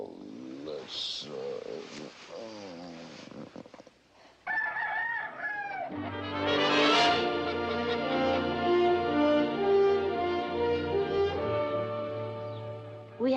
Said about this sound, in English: 2 dozen leghorns for me to look after.